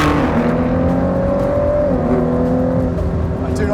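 A powerful car engine pulls hard with a steady exhaust drone, the pitch climbing and then dipping as it shifts, loud and close.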